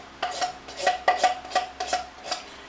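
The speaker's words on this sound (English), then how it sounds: "you're also going to need something to scrape the condensed milk out of the can" A spoon scrapes sticky condensed milk from the inside of a can in about eight quick, rhythmic metallic strokes, close and moderately loud, with no talking.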